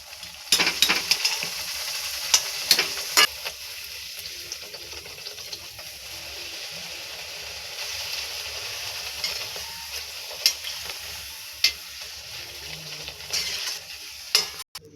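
Luchi fries in hot oil, a soft bubbling sizzle with sharp ticks and clicks at intervals, louder bursts near the start and end, no talk.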